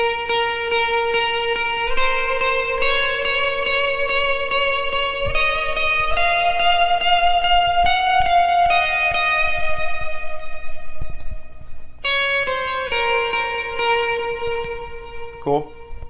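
Electric guitar lead line, tuned down a half step and played through a Line 6 Helix patch with effects and reverb, sustained melodic notes ringing out loud and alone for the whole stretch.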